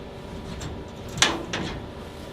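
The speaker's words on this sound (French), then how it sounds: "je peux ouvrir la porte" The door of a high-voltage cabin on an SNCB train is opened, giving two short sharp mechanical clunks about a third of a second apart over a low steady background hum.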